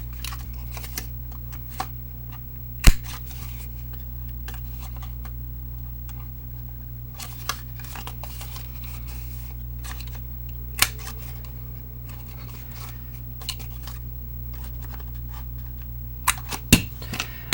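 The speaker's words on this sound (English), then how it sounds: "Then we're just going to round the corners." A corner rounder punch trims the corners of a paper card, giving a few sharp, isolated clicks spaced seconds apart over a steady low room hum, with no talking.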